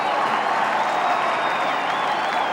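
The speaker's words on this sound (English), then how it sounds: "The Fremantle Dockers cheer squad were right behind the kick." Fremantle Dockers cheer squad at a 2003 AFL match against Melbourne roars after a goal, a dense sustained crowd cheer and applause filling the stadium, loud and unbroken throughout.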